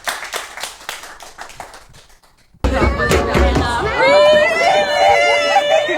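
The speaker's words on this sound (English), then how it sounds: "So if we could have a warm round of applause for Adrienne Smith." An audience at a District216 talk claps to welcome a speaker, a brisk patter of many hands that fades away before an abrupt cut to unrelated talking.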